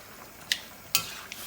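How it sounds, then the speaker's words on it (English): A hot pan of white wine reducing on full heat for a prawn and 'nduja pasta gives a faint, steady sizzle, broken by two brief scraping stir clatters, close by and with no voices. "the white wine just goes in about 200 milliliters. So with this, that's why we want the heat up full now because we want that really to reduce down"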